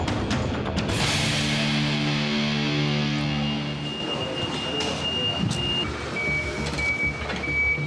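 Trucks hauling imported frozen pork to a processing plant move in and out, their engines rumbling low while a steady electronic reversing beep repeats through the second half.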